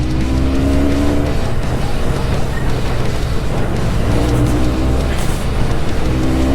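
A Benelli 302C motorcycle engine roars steadily and loud, revving under constant wind and road noise as it accelerates to overtake, with no talking.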